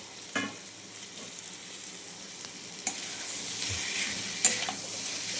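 Dried fish tossed into a sizzling fried spice mixture in a pan, a steady soft frying hiss with a few sharp clinks and stirring knocks scattered through, close and moderately quiet.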